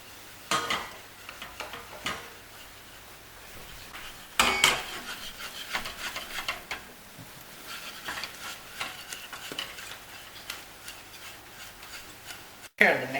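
Flour whisked into hot butter in a pan off the heat for choux dough: intermittent scraping, rubbing stirs and occasional clanks of the whisk against the pan, with someone talking over parts of it.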